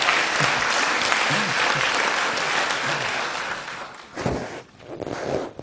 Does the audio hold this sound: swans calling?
no